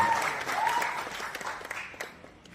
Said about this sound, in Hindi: मैं चाहूंगा एक जोरदार ताली हो जाए।